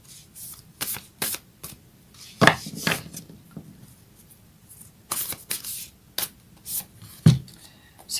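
A deck of Moonology oracle cards is shuffled by hand. Close, papery riffles and taps repeat in short uneven bursts, with no talking.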